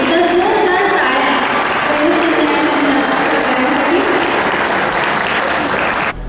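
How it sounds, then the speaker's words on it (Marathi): Loud applause from a crowd gathered at a public event, a dense, continuous clapping roar that holds steady for several seconds before cutting off. "एकदा जोरदार टाळ्या"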